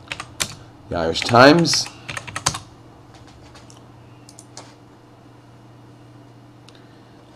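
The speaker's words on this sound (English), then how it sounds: "And we just type in" Someone types on a computer keyboard while someone talks over the first keystrokes. Close, quick key clicks come in short bursts, then thin out to a few faint taps.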